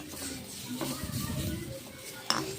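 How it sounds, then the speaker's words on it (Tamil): Grated coconut roasting in ghee while being stirred in a pan for sweet kuzhi paniyaram, with soft scraping and stirring scrapes, faint sizzle and a sharp utensil clink near the end, close and moderately quiet. "நல்லா தேங்காயை நல்லா வறுக்கணும்."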